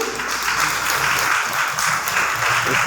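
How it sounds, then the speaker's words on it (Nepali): A crowd at a Father's Day gathering claps loudly and continuously, a thick, even wash of applause with faint voices mixed underneath. "हामी जोड तालले ताली मार्नेछौँ"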